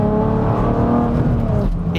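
A 320 hp Toyota MR2 with a swapped-in 3.5-litre V6 pulls hard under acceleration, its engine note a loud, rising, continuous drone heard from inside the car for a couple of seconds.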